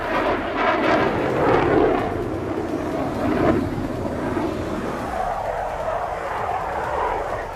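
Tejas fighter jet flying: a steady, loud engine roar with a rushing, whooshing quality swells and shifts in pitch, continuous throughout with no talk.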